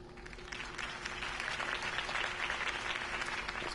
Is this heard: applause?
yes